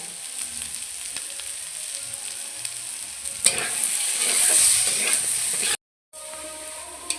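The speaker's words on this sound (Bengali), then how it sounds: "এবার আমি কচুগুলোকে ভালো করে ভেজে নেব হালকা একটু হলুদ আর লবণ দিয়ে ভেজে নেব" Boiled taro pieces with a little turmeric and salt frying in a pan, a steady close sizzle that swells louder midway, with a few stirring knocks and a short silent break, no talking.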